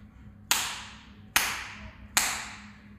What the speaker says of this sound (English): the only thing that matters now is how big and how loud is your lat clap